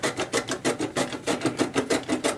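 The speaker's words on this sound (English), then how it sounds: "So let's grate some carrot." Carrot being grated on the grating blade of a LEWONDE vegetable cutter, a close, steady run of quick rhythmic rasping strokes, about five per second, with no one talking.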